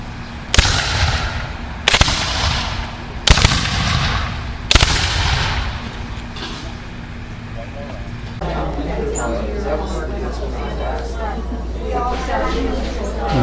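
Musket volley fired by files at a historical reenactment: four loud, distinct outdoor shots spaced about a second and a half apart, each with a fading echo, followed by a droning mechanical hum.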